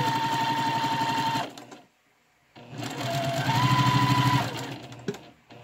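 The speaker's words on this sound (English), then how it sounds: "we're just sewing up the sides here" A sewing machine runs up the sides of fabric being added to a crochet kit project. A loud, steady motor whir plays in two runs with a short pause between them, ending with a brief click.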